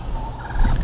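A turkey gobbles briefly, a short rough burst heard close over a low background rumble, with no talk.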